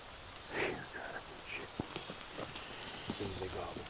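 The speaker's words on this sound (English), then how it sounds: "It's the rain coming." Soft rain patters steadily in the distance in the mountains, faint and continuous, with occasional quiet voices and small outdoor sounds.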